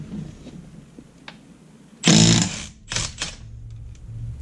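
A Milwaukee M12 impact wrench drives a Tekton 3/8-inch socket in two close, loud hammering bursts, a longer one followed by a shorter one, with quiet gaps around them.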